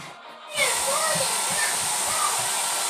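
A hair dryer starts up after a brief pause and blows with a steady rushing whoosh, while children's voices chatter over it.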